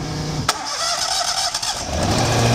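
An Amtex Inferno Stack 3047 auxiliary power unit turns over with a sharp starter crank, then catches and settles into a loud, steady mid-pitched engine drone, heard close up with no talking.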